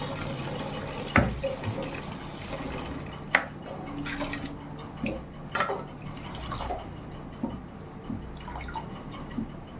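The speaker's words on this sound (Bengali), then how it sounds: "আর এই যে বাঁধাকপিটা কেটে ধুয়ে নিচ্ছি," Tap water running and splashing over freshly cut cabbage being washed in a kitchen, a low steady trickle broken by irregular drips, splashes and handling clatter, no talking.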